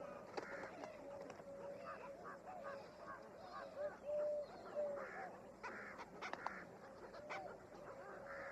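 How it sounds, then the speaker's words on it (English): House crows call at Ajan Bund Lake in India during the monsoon, harsh caws and honk-like cries repeating at moderate distance over a steady bed of ambient noise. "House crows are notorious egg thieves."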